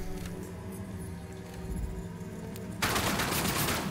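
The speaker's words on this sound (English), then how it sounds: "Now I can shoot faster." Rapid gunfire in the sci-fi shooter Outcast: A New Beginning, a steady rattle of fast shots under game ambience that swells into a louder, denser burst near the end, with no talking.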